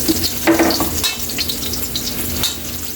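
Mung beans return to a hot pan for sautéing in a Filipino ginisang monggo, sizzling steadily and close with stirring scrapes and a few brighter spits, no talking.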